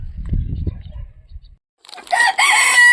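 A rooster crows loudly and close in a garden setting, a single drawn-out cock-a-doodle-doo after a short stretch of low murmuring voice and a brief pause.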